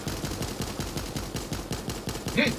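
Rapid bursts of gunfire in the Fortnite video game, a steady run of evenly spaced shots close and loud, with a brief tonal blip near the end and no talk over it.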